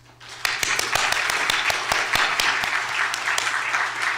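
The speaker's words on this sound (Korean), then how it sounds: "주님께 한번 영광의 박수를." A church congregation applauds steadily at a New Year's Eve service, many hands clapping together in a dense, even roar, with a few sharp individual claps standing out.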